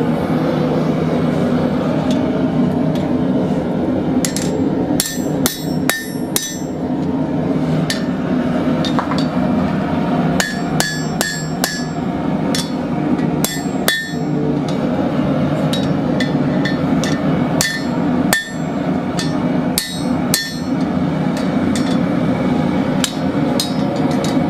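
Steady metal hammer blows ring against an anvil while a bent bar for a dinner bell triangle is straightened, strikes coming in irregular bursts and clusters over continuous workshop noise, close and loud throughout.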